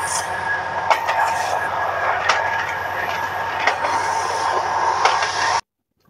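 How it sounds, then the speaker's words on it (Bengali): A Parabat Express passenger train from Dhaka to Sylhet, Bangladesh, runs past tea gardens toward forest, giving a steady close rumble with rail clicks and squeals before it cuts off abruptly near the end. "ট্রেন যখন আরো গভীর অরণ্যের দিকে এগুচ্ছে"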